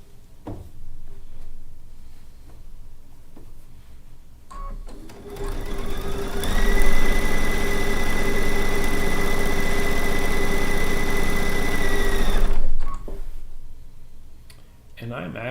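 A sewing machine runs a continuous stitching burst along a fabric seam for several seconds, loud and steady with a whirring hum, framed by quieter handling sounds and talk before and after.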